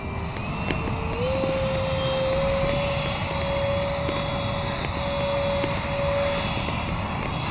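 A radio-controlled EDF thrust-vectoring Falcon jet flies high-alpha passes, its ducted fan giving a steady, loud whine with a sustained tone that rises slightly and holds over a broadband rushing roar.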